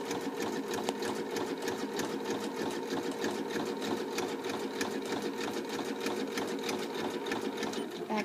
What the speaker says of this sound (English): when I sew, the needle is going to go on and off the edge of my fabric